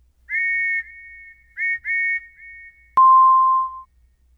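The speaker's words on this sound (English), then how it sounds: "Lily heard the sound of a train whistle outside her window." A steam train whistle from a Thomas storybook sounds in two short paired toots, followed by a lower, longer single blast, clear and alone against silence.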